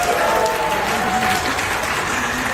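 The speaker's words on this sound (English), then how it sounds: "Team number 1, I want you to make some noise by cheering, clapping, whatever works." A live keynote audience team cheers and claps on cue, a dense, steady wash of applause and shouts lasting a few seconds at full loudness.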